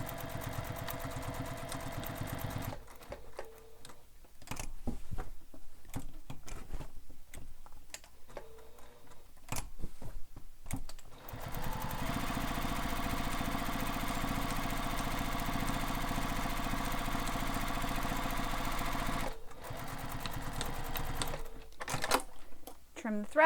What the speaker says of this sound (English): then I'm going to back stitch a few times